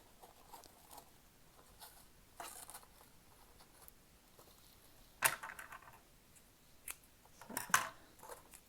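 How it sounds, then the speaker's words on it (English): Scissors snipping jute twine while making a Thanksgiving place card on a mini milk carton: a few faint, quiet crisp snips spread out over soft handling rustle. "cut my jute, thread my tag on"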